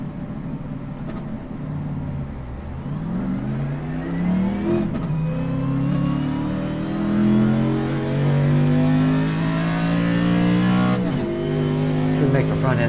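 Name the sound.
race car engine revving in a racing video game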